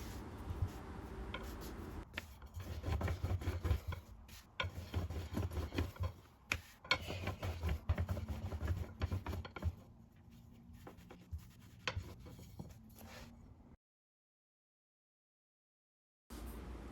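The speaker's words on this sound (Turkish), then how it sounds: "biraz un serperek küçük bir oklava yardımıyla orta incelikte" A small rolling pin rolls out floured dough on a board with quiet, uneven rubbing and light tapping strokes, then stops abruptly into silence before a brief return.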